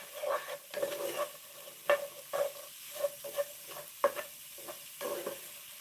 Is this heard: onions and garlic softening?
yes